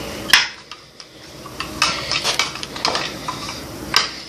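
A spoon stirring slime in a bowl, with scraping clinks and squelchy rubbing strokes in an uneven rhythm, close and fairly loud, with no voice.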